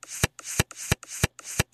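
Playing cards being dealt on a game show: five evenly spaced sliding swishes, each ending in a crisp snap, close and clear with no talking.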